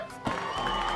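Crowd cheering and applause played from a sound effect board, a brief burst that swells after a quiet start and holds steady at moderate level.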